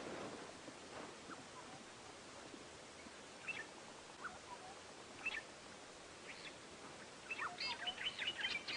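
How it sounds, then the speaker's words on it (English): Various wild birds call along the edge of a small dry riverbed on an early-morning safari drive, with scattered faint chirps and tweets over quiet hiss, growing busier and more overlapping near the end. "listen to the birds down here along the edge of this little dry river"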